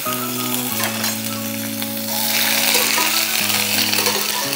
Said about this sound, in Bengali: তেলটা আমার গরম হয়ে গেছে, দিয়ে দিলাম ফোড়নে কিছুটা জিরে, 3 টুকরো তেজপাতা,